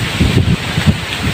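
Strong mountain wind in Baguio buffets the microphone in rough, uneven gusts over a brief moment, loud and close with no voices.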